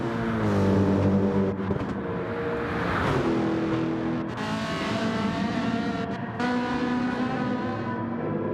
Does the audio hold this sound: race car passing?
yes